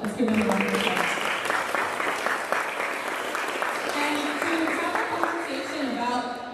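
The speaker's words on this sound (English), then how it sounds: "Let's give them a round of applause." An audience applauds at a university ribbon-cutting ceremony for a VIP idea lab, with sustained clapping at moderate volume over a background of voices.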